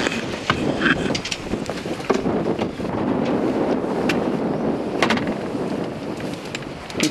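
Strong outdoor wind buffets and roars against the microphone, loud and continuous with gusty rumbling surges and scattered sharp crackles throughout.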